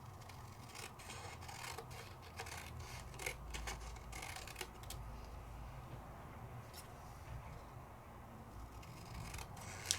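Scissors cutting paper freehand, giving a faint, continuous run of crisp snipping and rustling strokes, close and quiet with no talk.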